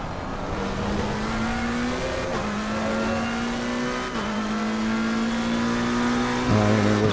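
Race car engine in Assetto Corsa held at high revs, a loud continuous drone with a few quick shift dips and a lower-pitched change near the end, with no talking over it.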